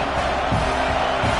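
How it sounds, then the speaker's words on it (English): A stadium crowd at an American football game roars continuously as the defense lines up on third down, a loud, dense wall of cheering and shouting that swells slightly without a break. "Decibels rising as the crowd gets behind this defense on 3rd down."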